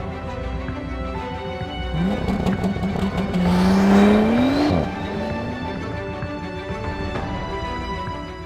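A Bentley Continental GT pulls away on a test drive. The engine revs rise and swell, with a tire squeal or whine climbing in pitch midway, then settle into a steady cruising hum. No one speaks.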